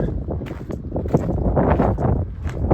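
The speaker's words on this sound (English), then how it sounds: "we will be wrestling a little bit with the wind today" Wind gusts across an outdoor shore at low tide, buffeting the microphone with a loud, rough, continuous rumble for a few seconds.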